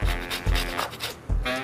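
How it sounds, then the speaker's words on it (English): A fresh lemon is scraped against a zester in a few short, close rasping strokes, each starting with a soft thump, with no voices. "Τώρα θα ρίξουμε μέσα λίγο φρέσκο ξύσμα λεμονιού."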